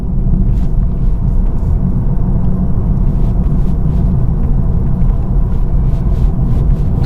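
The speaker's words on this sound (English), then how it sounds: "now I'm back on the gas all the way through" A car pulls hard on the gas through a corner on a country road approaching a village, its engine a steady, loud low rumble that holds throughout with no talk.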